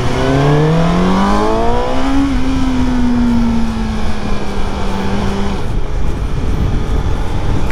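A Suzuki GSX-S750 motorcycle on its stock exhaust revs up loud and close, engine pitch climbing then holding a steady drone before dropping away, with strong wind and road rumble throughout.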